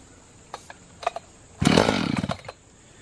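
An Echo CS-590 Timber Wolf chainsaw, left sitting overnight, gets a few short starter-cord pulls, then catches and sputters for under a second before dying out, close up.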